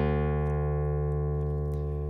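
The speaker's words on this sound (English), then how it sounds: "you're going to lower the lowest string, the low E, to a D, a whole step down. So it sounds like this now." A guitar's low string, lowered a whole step from E to drop D, rings out as a single sustained low note, steady and alone with no voices.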